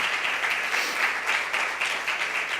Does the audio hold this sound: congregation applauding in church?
yes